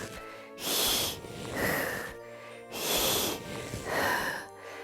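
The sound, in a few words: storyteller imitating a monster's panting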